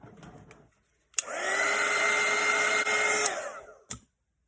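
A hair dryer blows steadily on a watercolour painting to dry the paint, a loud, close, even whoosh starting abruptly after a moment of quiet and lasting about three seconds before cutting off.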